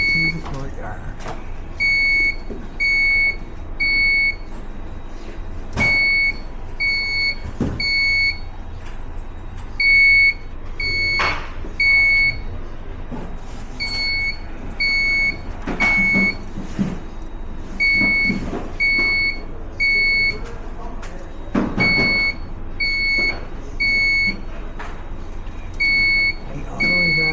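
A fire alarm panel's repeating electronic beeps sound in a fire alarm system training session, steady rhythmic pulses continuing for many seconds under voices and background activity, close and fairly loud.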